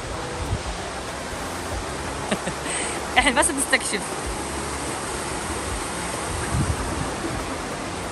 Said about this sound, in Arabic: سمعنا صوت مي